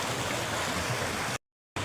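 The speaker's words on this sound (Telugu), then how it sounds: "ఇది వాటర్ ఫాల్స్లే" Waterfall and flowing stream water rush in a dense, loud, steady wash, cutting out briefly near the end before resuming.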